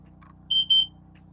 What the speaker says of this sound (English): I may have to get up several times and hit that alarm.